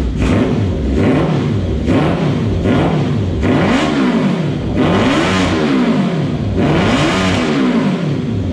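A Renault 4L fitted with an FZR engine, just after carburetor tuning, revs repeatedly in loud, close blips, with the engine note rising and falling in a regular rhythm, and no one speaks.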